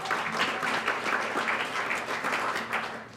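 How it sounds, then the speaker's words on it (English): Audience at an evening Martin Luther King Jr. scholarship reception applauds itself, a steady, dense wash of many hands clapping at a moderate distance for a few seconds with no talk over it. "give yourselves a round of applause for being here on this evening"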